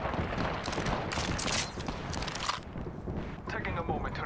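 Gunfire in Apex Legends, a busy mix of distant and nearby shots and booming impacts layered over constant game noise, with brief in-game voice callouts.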